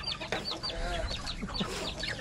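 Chickens in a chicken house clucking busily at feeding time, a lively overlapping chorus of close, repeated clucks and squawks with no talk over it.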